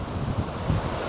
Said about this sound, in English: I'm at the ocean. This is Myrtle Beach, South Carolina.